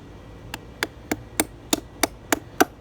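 A chisel driven by a mallet undercuts a dovetail in wood: eight sharp, evenly spaced knocks, close and clear, each a little louder than the last, with no voices.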